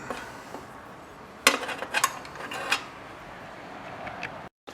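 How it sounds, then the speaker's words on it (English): Wrenches, a 7/16 and a 3/8, work the carburetor bolts on a Tecumseh-powered lawn mower. A short burst of close metallic clicks and clinks sounds in an otherwise quiet space. "with a 7/16 and a 3/8, we'll go ahead and remove the carburetor here"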